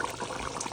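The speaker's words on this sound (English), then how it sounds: "Pouring it in. Hot boiling water." Hot boiling water pours into a pot of cooking meat with a brief, soft, continuous splashing gurgle, quiet and steady with no voices.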